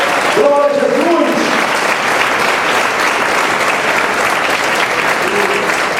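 A church congregation applauds during a Resurrection service, a sustained wash of clapping with a voice briefly calling out over it near the start and again near the end.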